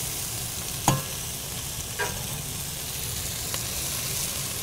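A pan of browning food is stirred, giving three distinct scraping strokes over a steady low sizzle; no talking.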